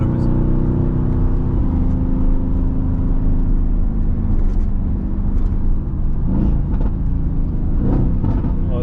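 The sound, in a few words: tuned 2017 Mercedes-AMG GT engine accelerating on highway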